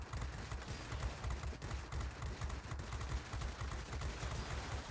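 Rapid, continuous bursts of 23mm cannon fire from an IL-1 plane in World of Warplanes rattle on without pause, dense and rumbling, like an automatic weapon firing nonstop.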